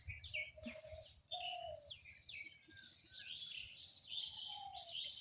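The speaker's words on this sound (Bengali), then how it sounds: "ওয়াও, কি সুন্দর পাখির ডাক" Birds call near a village pond, with bright chirps, tweets and short whistled phrases overlapping one another at moderate loudness over a soft low outdoor rumble, and no talking.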